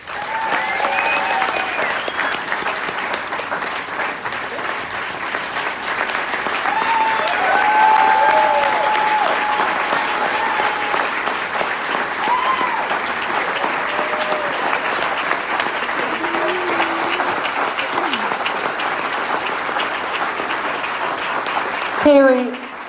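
A large audience applauds loudly and steadily for a long stretch, the clapping swelling in the middle and continuing under a speaker's voice, which is heard throughout before the applause ends abruptly.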